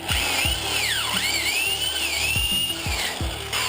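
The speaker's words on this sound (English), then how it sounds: "Put the drill here." A 7-amp power drill bores holes into a wooden bass trap panel, its motor whining loudly and steadily with pitch rising and falling as the bit bites, broken by a few sharp knocks.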